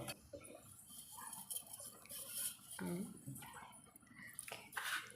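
Spoon stirring a rava laddu mixture of semolina and sugar in a metal pot, with scattered scraping and clinking of utensil against the vessel, close and moderately loud, some faint background voices.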